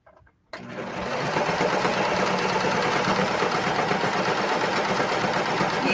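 A serger sewing machine running on three threads instead of four stitches a hoodie sweatshirt. After a brief quiet start it whirs in a steady, fast mechanical drone close by and keeps going without a pause.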